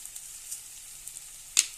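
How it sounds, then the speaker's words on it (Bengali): Banana stem (thor) frying in a pan makes a faint, steady sizzle with a few soft pops and one louder crackle near the end. "আমি এইভাবে ভেজে নেব।"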